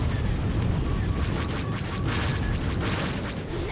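Cluster missile explosions in SWTOR Galactic Starfighter, flying a Flashfire fighter over Lost Shipyards, a dense continuous roar of blasts and rumbling engine noise filling the whole stretch at steady loudness.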